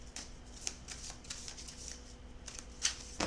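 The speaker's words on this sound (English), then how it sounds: "I'm going to shuffle one time." Tarot cards shuffled once in a steady riffling flutter of papery flicks, quiet and close, with no voices.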